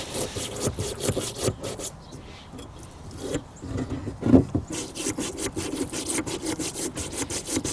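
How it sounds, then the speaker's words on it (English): A small bottle brush scrubs old brake grease out of a rear brake caliper bracket on a Chrysler 200. Rapid back-and-forth scratchy strokes come in close bursts with a short pause, and a voice is faintly present. "I'm going to take a little bottle brush. I'm going to go in there and clean all that old brake grease out of there."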